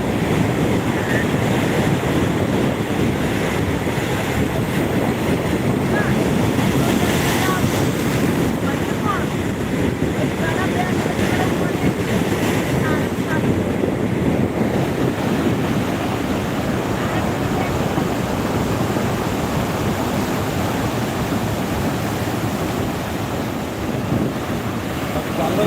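Sea waves rolling onto Digha beach, a loud continuous wash of surf mixed with heavy wind buffeting the microphone, steady throughout with no clear pauses.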